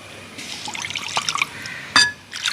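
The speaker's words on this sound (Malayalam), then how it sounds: "ഒന്നും കൂടി വെള്ളം ഒഴിച്ചോ." Water poured into thin rice batter for pullu ada, trickling and dripping steadily with a splash and a brief gurgling pour near the end, close and fairly soft.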